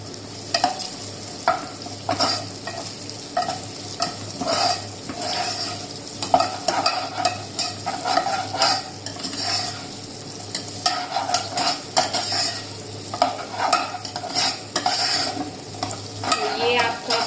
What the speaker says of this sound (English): Let's put onions and wait for some time just to make it, turn it golden brown.